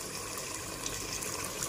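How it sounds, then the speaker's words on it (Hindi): Water is poured into a pan of fried masala gravy with the oil separated, making a steady hissing, trickling wash that stays close and continuous throughout, with no voices. "अब यहाँ पर डाल देंगे हम थोड़ा पानी"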